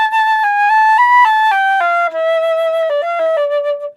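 A flute sight-reads the third and fourth bars of Drouet's first study from 72 Studies, a clear, close solo line of legato notes stepping up and then descending, played alone with no talk.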